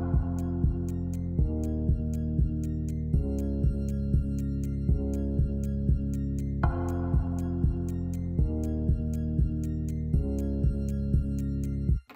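A looping 7/8 drum section built in Logic Pro from harp samples, with steady pulsing low hits under sharp ticking accents, repeating evenly and loud throughout with no talk.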